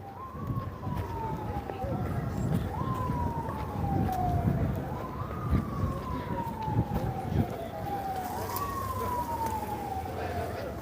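An emergency vehicle siren wails through a Toronto street in repeating falling sweeps, moderately distant under city traffic and nearby voices.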